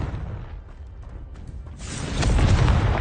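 The Confringo fire spell detonates in Hogwarts Legacy: a quiet stretch with faint rumbles gives way to a sudden loud, broad blast that swells and roars to the end.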